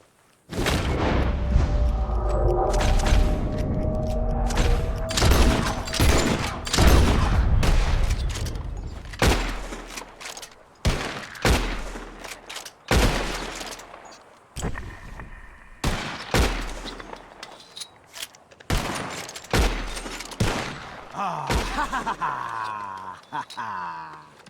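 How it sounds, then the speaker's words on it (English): Bursts of rapid gunfire and single loud shots in Red Dead Redemption 2 as players shoot birds out of the sky, firing close and heavy in clusters with short gaps and faint voices between. "You shoot 4 birds out of the sky before me, you win."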